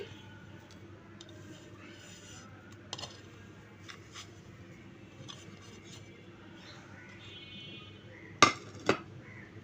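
A spoon clinks and scrapes in a bowl as mashed potato is mixed into a homemade chicken kebab mixture. The sound is soft and steady, with two sharper, louder clinks near the end.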